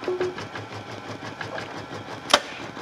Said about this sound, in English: we can actually wind the bobbin while we're sewing.